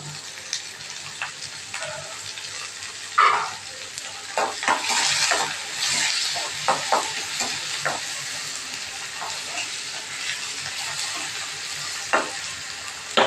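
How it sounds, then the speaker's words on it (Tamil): Onions sautéing in a pan: steady sizzling and frying, with occasional stirring scrapes and clicks, continuous and close throughout. "வெங்காயமும் போட்டுட்டேன் வெங்காயம் லைட்டாக வதங்குது"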